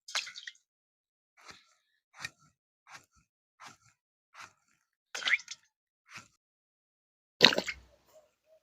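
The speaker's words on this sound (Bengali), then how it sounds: "বন্ধুরা এইভাবে ঝিঙেগুলো আমি কেটে নেব।" A knife slicing through ridge gourd, giving about ten separate short crisp cuts spaced roughly a second apart, close up and fairly quiet with silence between them.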